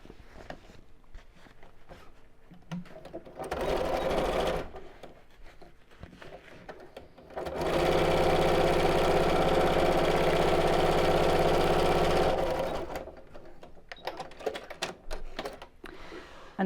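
A domestic sewing machine stitches straight across the bottom seam of a shopping tote bag, a steady close mechanical run in two bursts, a short one and then a longer sustained stretch, with handling noises between.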